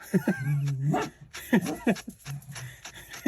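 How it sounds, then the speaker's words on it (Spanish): A dog nearby barks and yips in quick, excited bursts, mixed with whining, indoors as a storm arrives. "disculpen los ladridos, es que se me alborotó."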